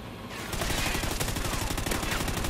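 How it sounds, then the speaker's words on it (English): Rapid automatic gunfire from a Call of Duty: Ghosts match starts after a brief quiet moment and keeps up as a dense, continuous stream of shots to the end. "I hear shooting."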